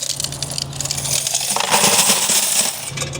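Coins clatter and jingle as they are emptied from a coin-operated fragrance vacuum vending machine, a continuous metallic cascade of many coins close to the microphone, swelling toward the middle and then thinning out.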